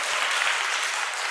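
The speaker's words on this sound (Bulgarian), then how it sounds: "Аплодисменти." Applause from the audience at a spring village concert in Yagodovo, a dense, steady wash of many hands clapping together, loud and continuous throughout with no voices on top.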